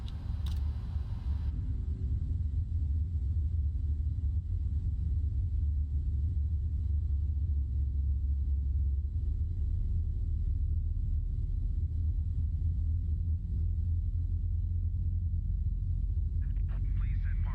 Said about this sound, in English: Okay, let's start engine number one and listen to those sounds once again.